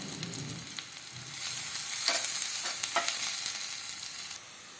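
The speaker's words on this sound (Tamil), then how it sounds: "இதை வதக்கி எடுத்து வச்சுக்குவோம்." Crushed ingredients sautéing in hot oil for Andhra-style moong dal rasam, a steady close sizzle and crackle with occasional stirring scrapes, growing slightly louder midway, with no talk.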